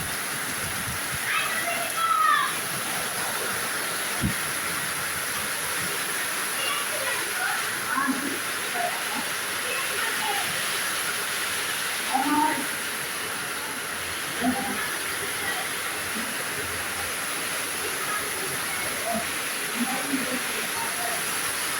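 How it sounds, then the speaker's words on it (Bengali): Heavy rain pours down in a steady, dense hiss that fills the whole stretch without letup, with faint voices now and then beneath it. "দেখুন দেখুন কত জোরে বৃষ্টি হচ্ছে।"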